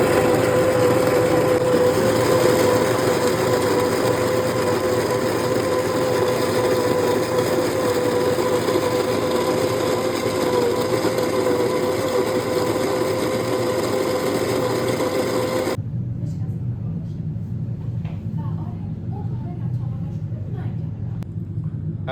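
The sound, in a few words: coffee grinder grinding roasted coffee beans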